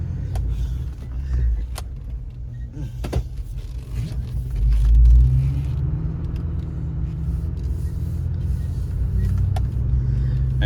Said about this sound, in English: We will give it some heavy acceleration and make sure that our hose does not blow apart under heavy boost situations.